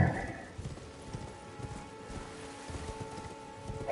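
Horse hooves clip-clop in Elden Ring, a quick uneven run of soft thuds over a low ambient background, close and moderately loud with no voices.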